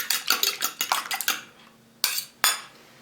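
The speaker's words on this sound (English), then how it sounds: "what I'm doing is just whisking a little bit these 2 eggs" Two eggs are whisked in a bowl for honey cookie dough, a fork clinking against the sides in a quick run of taps, then a pause and two louder isolated strikes, close by with no talking.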